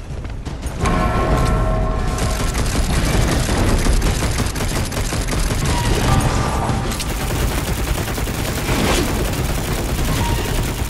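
Dense, continuous gunfire and booming impacts in the action game Darksiders Genesis, loud and close, with rapid shots layered over a mechanical din and no talking.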